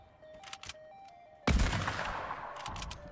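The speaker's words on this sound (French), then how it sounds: "Oula, ça tire." Gunfire in the video game Fortnite: a sudden loud burst of shots that rings out and decays over a second or so, followed by a few more shots, preceded by quiet game tones.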